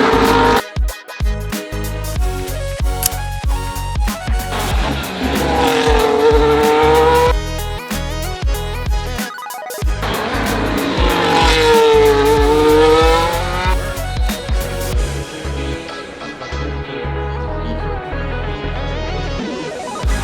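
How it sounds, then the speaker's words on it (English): Formula 1 race cars at the 2023 Montreal Grand Prix scream past one after another, their loud, high-pitched engine whines sweeping up and down with strong Doppler shifts as they pass close by, along with repeated gear-shift changes in pitch. "now we're gonna get some panning shots of the cars"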